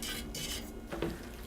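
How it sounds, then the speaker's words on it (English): Pasta pieces are stirred with pesto in a pan, giving a brief, close scraping and soft clatter of a utensil against the pan, with no voices. "I want to just stir this up and get this coated well."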